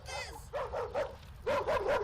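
Dog barking in short bursts, a few close yaps in two clusters, with a rider pedalling a bicycle and talking nearby over the din.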